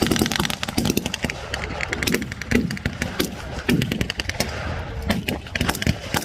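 Gunfire from a World War 2 battle reenactment at a military show in the UK, with German forces firing from a village: rapid, irregular cracks and bursts of machine-gun fire, loud and continuous throughout.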